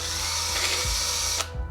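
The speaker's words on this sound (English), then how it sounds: "you can take the drill bit as a helpful hint, and you can enlarge and elongate the holes slightly" A power drill runs continuously, loud and close, while enlarging holes through a mounting template for a Honda EU3000IS generator wireless remote kit, with brief dips in motor pitch as the bit bites.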